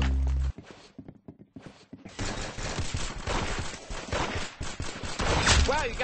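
Rapid gunfire from the Roblox shooter Arsenal, loud and dense bursts of shots after a brief quieter opening, continuing almost without pause to the end.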